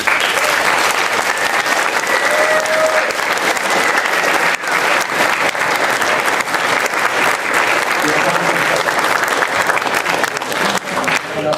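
A large audience at an evening event gives Nolan Bushnell a loud, sustained round of applause, thick continuous clapping with crowd noise throughout.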